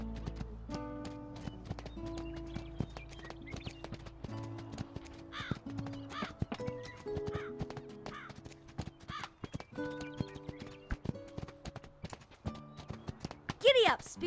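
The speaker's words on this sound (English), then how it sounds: "Giddy up, Spirit. Looks like this is the right path" Hoofbeats of a galloping horse in the Spirit horse video game, a steady clip-clop rhythm over background music and game sounds, with a short neigh near the end.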